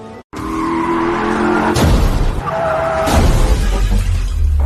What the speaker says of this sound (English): His car was pushed over the cliff.